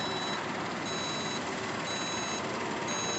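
Steady, repeated reversing beeps from a dump truck near a Peterbilt truck repair shop, a regular high-pitched alarm pattern over constant engine rumble, loud and close with no talk.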